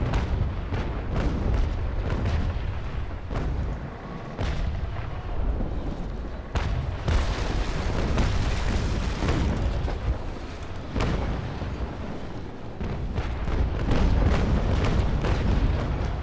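Ship cannons firing ball ammunition in the Naval Action video game: dense, continuous booming and rumbling with repeated heavy blasts and crackling over a loud sustained roar, no talk.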